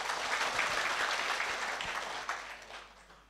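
An audience at a company event applauds in a full, dense burst that fades out toward the end.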